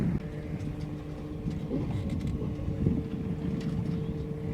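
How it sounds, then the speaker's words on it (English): Steady wind roars across the microphone aboard a sailboat cruising under sail, a constant low rush with faint hull and rigging sounds and no voices. "Got a nice little wind coming on too."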